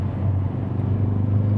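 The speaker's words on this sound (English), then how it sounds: "We'll come around this corner and I'll just accelerate." Dreamscience-tuned Mk4 Ford Focus ST accelerating in fourth gear from around 3,000 rpm, a loud steady low engine drone with a strong rumbling tone, heard from inside the car.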